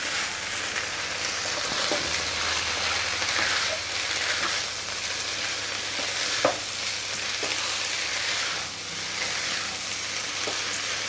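Tibetan bhatsa marku frying in a pan, a constant close sizzling hiss with occasional scrapes and clicks of stirring, steady in level over several seconds, no talking.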